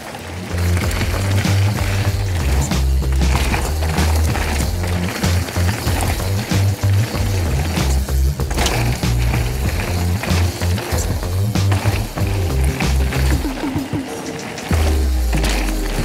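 A downhill mountain bike with soft, grippy tires runs down a mellow dirt trail, giving a steady loud rumble of tires and rattling, thudding impacts from the frame and suspension throughout, close up and without talk.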